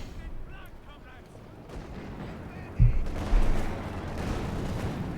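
Tank cannon fire in Company of Heroes 2 from a Panther battle near Volks Grenadiers: a heavy boom lands, then a second blast follows moments later, both under ongoing battle noise and a commentator's voice.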